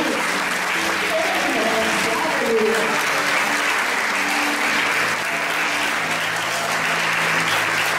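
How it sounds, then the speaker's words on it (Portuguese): Church congregation applauding: a thick wash of many hands clapping continuously for eight seconds, with a voice speaking over the crowd throughout. "Dá uma salva de palmas para Jesus."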